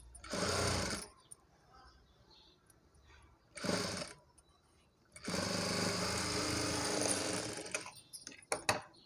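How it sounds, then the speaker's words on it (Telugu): A sewing machine stitches a frock for a 0–2 month baby, running in three loud, close bursts: a short one, another brief one, then a long steady whir, with clicks and handling noise at the end. "ఇక్కడ నుండి ఒక స్టిచ్ వేసేసుకోవాలి."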